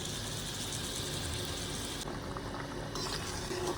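Shrimp and potato curry sizzles and bubbles in a pan as it is sautéed, a steady hissing, frying sound with a faint clink partway through.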